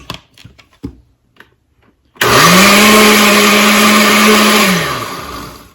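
A blender roars on at high speed after a few faint clicks, blending a broccoli sauce, a loud steady whine that holds for a few seconds, then starts to wind down.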